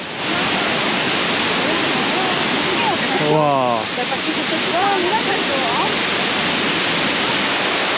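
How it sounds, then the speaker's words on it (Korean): Waterfalls at Plitvice Lakes in Croatia roar in a steady, full wash of falling water, with a short voiced exclamation and a little faint talk partway through. "엄청나게 많은 폭포를 지나간다"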